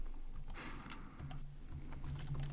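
Faint, sparse clicking of a computer keyboard being typed on, set against a low steady background hum, with no speech.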